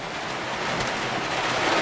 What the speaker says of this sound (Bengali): এখন আপাতত আল্লাহর রহমতে বৃষ্টি পড়তেছে